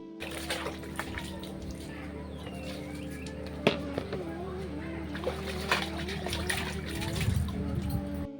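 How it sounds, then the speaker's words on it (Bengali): Kitchen pots and utensils washed with water in a village home in Assam: ongoing splashing and sloshing with light trickles and a few clinks, heard under a voice and faint background bird calls. "আমি সমস্ত বাসন টাসন বের করে এখন ধুয়ে নিচ্ছি"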